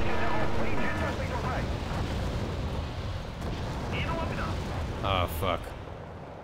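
Artillery shell explosion in the combat game Wargame: Red Dragon: a loud, heavy boom with rolling rumble and crackling debris, as a man briefly swears over it.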